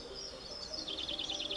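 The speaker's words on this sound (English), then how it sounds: "It is just so alive with the birds singing and everything like that" Songbirds chirp and trill in a garden, with rapid high notes that grow busier toward the end. The calls sound soft and somewhat distant over a faint steady background hiss.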